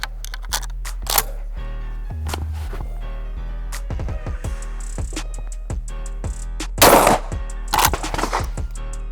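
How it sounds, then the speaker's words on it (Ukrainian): A single sharp rifle shot into an armored dummy cracks loudly, surrounded by scattered mechanical clicks and handling noises over a steady electrical hum. "Давайте зробимо постріл і подивимося, що станеться з нашою мішенню, навіть якщо вона в бронезахисті"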